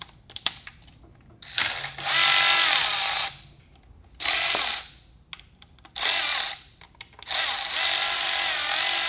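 A power driver whirs in repeated bursts as perimeter fasteners come out of the output drive shaft cover on a Yamaha Apex snowmobile engine, with short quiet gaps between the four runs.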